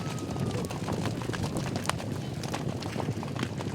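Horses gallop out to an overnight pasture, their hooves making a dense, steady clatter of clip-clop beats at close range with no pauses, and faint voices mixed in underneath.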